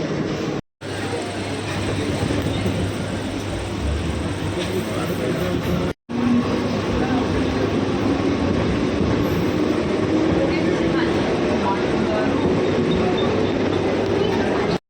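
Steady rumble of a moving Mumbai local train carriage heard from inside between Dadar and Mahim, continuous rolling and rattling with low hum, briefly cut twice.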